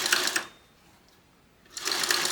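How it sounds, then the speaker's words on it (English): A sewing machine stitches a wristlet strap in two short, whirring bursts separated by about a second of near quiet, fairly close and moderately loud. "And then sew along the other side."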